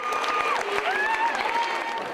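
Scattered claps of encouragement echo through a gym, mixed with faint squeaks and tonal noises, at moderate volume under a steady room din.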